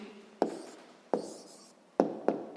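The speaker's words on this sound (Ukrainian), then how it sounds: "записуємо тоді відповідь" Pen or pencil writing a math answer by hand during a sixth-grade lesson, heard as a few sharp taps and short scratchy strokes spaced out over a quiet background, with no talking.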